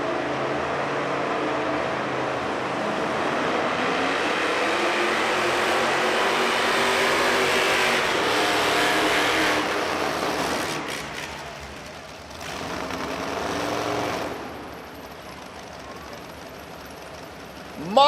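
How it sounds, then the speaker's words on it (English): A modified pulling tractor with an outlawed Holman Moody NASCAR engine makes a run at a tractor pull at Freedom Hall, a loud sustained roar that drops off partway through, with a voice over the din. "Mike Ott laying down an awesome run, last mod in the class, and he does it for Holman Moody outlawed NASCAR engines."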